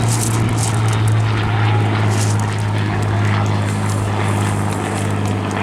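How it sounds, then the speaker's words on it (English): A 1940 BBMF Supermarine Spitfire MkIIa propeller fighter flying a display at Eastbourne Airshow, its engine a loud, steady droning roar with a strong low tone, sustained throughout without clear speech. "The Spitfire displaying today, P7, was built in 1940."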